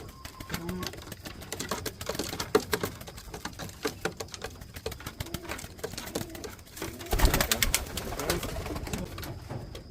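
Racing pigeons coo softly at a loft trap during training, with low repeated coos and scattered fluttering and tapping under a busy background of clicks and rustles.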